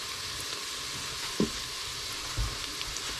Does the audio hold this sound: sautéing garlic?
yes